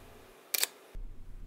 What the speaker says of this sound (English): the X-H1's mechanical shutter sound is quiet and subtle